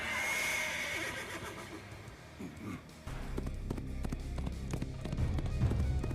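A horse whinnies loudly and close, a shrill drawn-out call, followed by snorting and hoof movement with a soft musical bed.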